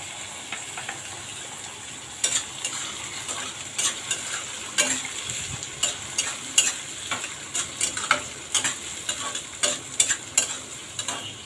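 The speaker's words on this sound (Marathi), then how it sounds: "असं परतून घेऊ आपण." Peas, carrots and capsicum stirred and sautéed in a hot pan, a soft steady sizzle broken by repeated scraping clinks of a spoon against the pan, close and fairly quiet.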